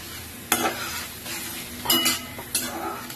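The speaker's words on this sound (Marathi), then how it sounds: "आता मी आज जो डाळ शिजून ठेवले ते टाकून देणार" Cooked dal is tipped into a sizzling tadka and stirred, with three sharp scraping bursts of spoon against pan over a steady frying hiss; no one speaks.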